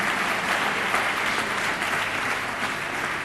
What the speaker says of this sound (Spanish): Un fuerte aplauso para Toño,